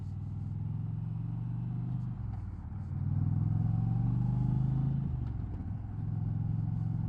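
Indian Challenger motorcycle with custom KST Kustoms handlebars rumbling steadily as it rides, its low engine note swelling briefly under throttle before easing off while pulling in, close and continuous with no talk.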